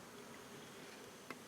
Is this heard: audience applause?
no